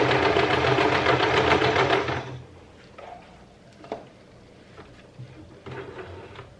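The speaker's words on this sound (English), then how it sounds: "I'm just putting my presser foot back down." A sewing machine stitches fabric for baby burp cloths, running as a loud, steady buzz for about two seconds before stopping, followed by quiet handling and small clicks.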